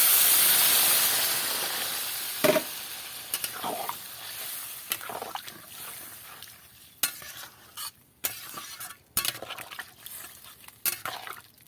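Water pours into a hot pan of fig and papad curry with aloo, bursting into a loud hiss of steam that slowly fades, followed by scattered scraping stirs and clinks of a spoon against the pan.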